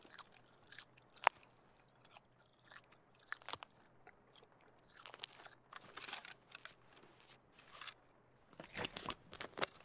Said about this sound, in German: jetzt knuspern uns erstmal die Wurst rein